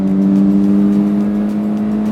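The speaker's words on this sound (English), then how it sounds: "It feels that the engine is going to blow any moment, but it will not." A Maruti Baleno with a Japanese engine and no traction control, ABS or EBD revs hard, its loud, close, sustained engine note holding a strong steady pitch with a buzzy edge.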